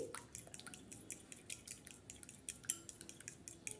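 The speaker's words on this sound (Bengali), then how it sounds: "একটা বাটিতে ডিম ভেঙে নিয়েছি আর সামান্য পরিমাণ লবণ দিয়ে দিলাম আর একটা কাটা চামচ দিয়ে ভালো করে একটু ফেটিয়ে নিচ্ছি" A fork beating raw egg with a pinch of salt in a bowl, quick light clinks and wet taps repeating in a steady, brisk rhythm, close and fairly quiet.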